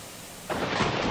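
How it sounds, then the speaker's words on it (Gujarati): The Shankar waterfall on the Saputara road, swollen in flood, gives a broad, loud roar of rushing water that surges up halfway through and holds steady, with no voices. "સાપુતારા માર્ગ પર શંકર ધોધે રૌદ્ર સ્વરૂપ ધારણ કર્યું છે"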